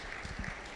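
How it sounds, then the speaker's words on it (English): An audience at an investor cheque-handout ceremony for a greenhouse and tree-farming company applauds in a brief, quiet burst of mixed clapping heard from a distance. "let us clap for them as they come to collect their check"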